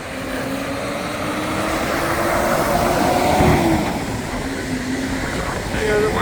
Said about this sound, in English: Locomotive, yard locomotive. Yeah, he's pulling some.